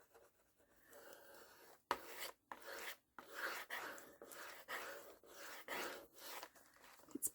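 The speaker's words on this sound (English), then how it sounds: "I'm just going to burnish it down a bit" Paper being burnished down along the spine of a handmade junk journal, a dry rasping rub in repeated short strokes, close and fairly quiet, with brief pauses between passes.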